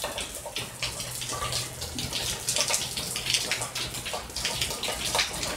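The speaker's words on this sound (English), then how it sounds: "it's raining like cats and dogs" Heavy rain pours steadily outside a home during a mini split install, a dense, continuous hiss with scattered close drips and splashes, fairly loud throughout, with no voices.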